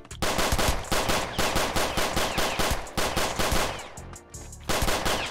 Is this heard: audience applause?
no